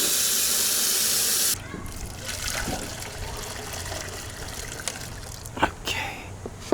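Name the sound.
water being added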